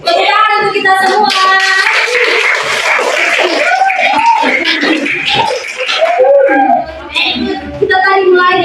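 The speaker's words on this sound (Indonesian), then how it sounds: "Tepuk tangan untuk kita semua." A class of children in an Indonesian primary school lesson claps hands together in a sustained, dense round of applause, mixed with children's voices and a few brief pauses near the end.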